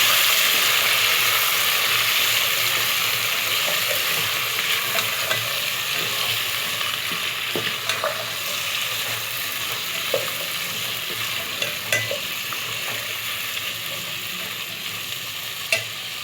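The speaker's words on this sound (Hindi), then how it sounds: "अब मैं इसमें आलू शामिल करूँगी और फ्राई करूँगी थोड़ी देर।" Potatoes fry with golden-brown onions in a pan, a steady close sizzle that goes on throughout, with occasional stirring scrapes and clicks of a utensil against the pan.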